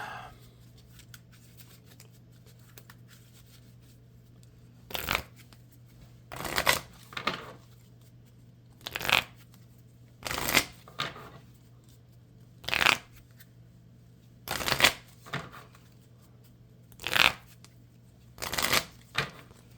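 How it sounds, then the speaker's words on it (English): A deck of Marvel Champions game cards shuffled in about nine short crisp riffling bursts at steady intervals, each spaced a couple of seconds apart over a quiet low hum, close and without speech. "And shuffle."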